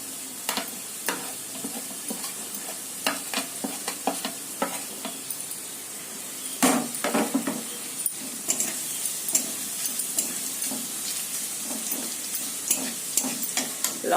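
Spice masala with bay leaf and cinnamon sizzling in a pan while being stirred, steady frying hiss with repeated scraping and clinks of the spoon, close and alone, with a louder burst partway through.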